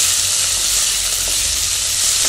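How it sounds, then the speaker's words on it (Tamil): Onions sautéing in a pan for onion sambar, a continuous close, even sizzle of frying with no talking. "இந்த வெங்காயம் வந்து என்னென்னா நல்லா வதங்கணும்"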